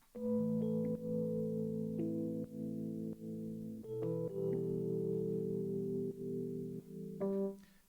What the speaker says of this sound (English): And then the last melodic thing is this Addictive Keys patch.